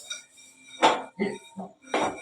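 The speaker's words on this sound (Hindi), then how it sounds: "इसको अलग मांजना है, इस कुकर को अलग मांजना है, ऐसे मांजना है इस कुकर को।" A pressure cooker being scrubbed during dishwashing gives four short, close bursts of metallic scraping and clattering, separated by brief pauses.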